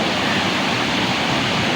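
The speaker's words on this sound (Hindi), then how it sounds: "इधर देखो कितना शोर है पानी के अंदर।" Flood water rushing through a canal at Head Sulaiman, a loud, dense, unbroken roar of turbulent water filling the whole clip with no voices.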